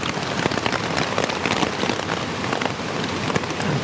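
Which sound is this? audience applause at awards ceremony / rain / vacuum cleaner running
rain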